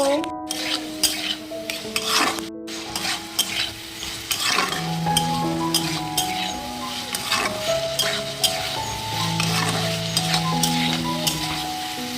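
Potatoes with onion fry in a pan, stirred with a utensil that scrapes and clinks against the metal over a steady sizzle, while sustained tones sound in the background.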